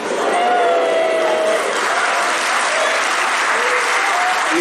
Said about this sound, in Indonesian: tepuk tangan jomblo.